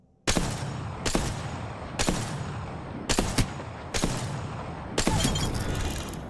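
Gunfire from another squad in a shooter game, six loud separate bursts about a second apart, each with a sharp crack and a ringing tail, no talking.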